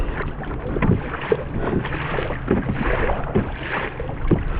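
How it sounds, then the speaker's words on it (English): Strong wind blowing outdoors on a rough day out fishing, a continuous loud rushing roar buffeting the microphone, with faint knocks and water sounds underneath and no talking. "Wind's blowing pretty good."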